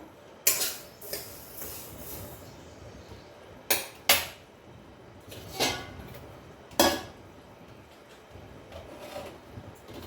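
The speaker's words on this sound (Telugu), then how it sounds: "ఇప్పుడు ఇవి నేను ఒక బౌల్లో తీసేసుకుంటాను" Roasted coriander seeds tipped into a bowl in a home kitchen, heard as several sharp clattering knocks and scrapes of utensils against dishes with short rattling bursts, spread unevenly across the stretch.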